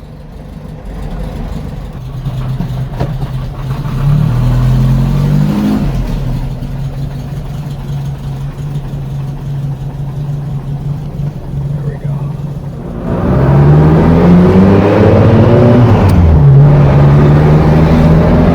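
A loud Volkswagen Beetle engine drones steadily through a throaty Type 4 EMPI aftermarket muffler, surging louder as it accelerates hard on the freeway near the end; a voice speaks briefly.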